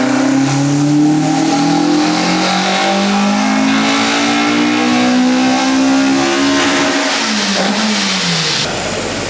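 A Honda EG with a Spoon K20a engine pulling hard on a dyno, a loud, close engine climbing steadily in pitch through the revs before dropping off abruptly when the throttle is released near the end.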